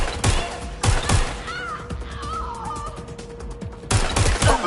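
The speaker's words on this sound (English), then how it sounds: "Shots fired! Ah, I take fire!" Gunfire in the Watch Dogs Legion video game: loud bursts of shots at the start and again near the end, separated by a quieter stretch of ambient noise and faint game sounds.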